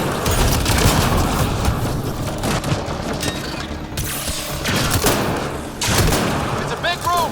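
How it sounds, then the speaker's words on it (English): Loud, continuous gunfight in the Mass Effect Andromeda video game inside a large gun battery room, with rapid automatic fire, heavy booms and mechanical clatter, plus shouted voices mixed in. "It's a gunfight in the gun battery then."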